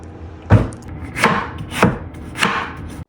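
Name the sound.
chopping tomatoes with a knife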